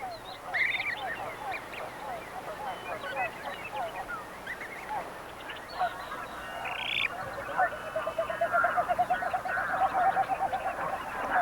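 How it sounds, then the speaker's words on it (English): Canada geese honk in a crane-nesting wetland where parents herd broods of goslings; repeated honks and calls overlap other waterfowl chatter at moderate distance, growing busier toward the end. "The wetlands where the cranes nest are also used by Canada geese."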